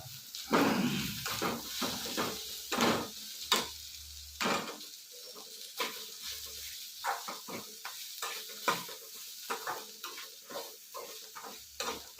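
Masala spices roasting in a pan while being stirred for a jackfruit seed palya: soft sizzling with irregular scraping strokes of a spoon, close and moderately quiet, with no speech.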